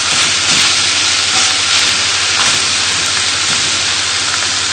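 A big lump of lamb for a tangy tagine sears in a hot pan, giving a loud, steady hiss that runs unbroken for the whole stretch, with a faint low hum underneath and no talking.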